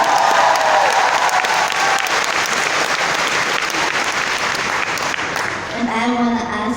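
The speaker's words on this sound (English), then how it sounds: "round of applause!" Convention audience at FACTS in Ghent breaking into loud, sustained applause and crowd noise, close and dense, tapering near the end as a voice begins speaking over it.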